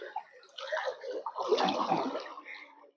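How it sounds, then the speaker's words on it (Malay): A baby splashing and playing in cool riverside water at a family camp, soft irregular splashes and watery patter close by, with faint voices in the background. "Oh, baby main air."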